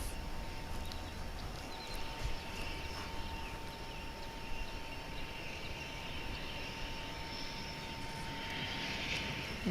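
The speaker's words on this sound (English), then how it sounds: "is that American Airlines flight from Cleveland. As it passes by our viewing area here at DFW Founders Plaza" A 13-year-old American Airlines Boeing 737-800 jet passes a viewing area at DFW airport, its engine roar a steady, broad rumble and whine holding throughout with no talk.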